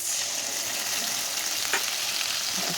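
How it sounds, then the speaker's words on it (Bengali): Ground spices sauté in hot oil in a frying pan after fish has been fried, a steady close hiss of frying with faint stirring, no voices over it. "মশলাটা দিয়ে দিলাম, ভালো করে মশলাটা কষিয়ে নেবো"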